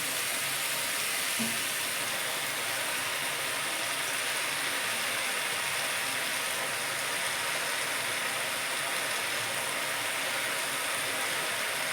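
Lentil dumplings (bori) and spinach fry in a pan, making a steady, even sizzling hiss that continues unbroken throughout.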